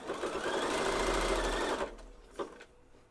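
A domestic sewing machine stitches women's underwear elastic in a steady, fast whirring run for nearly two seconds, then stops and leaves a few quiet clicks and handling sounds.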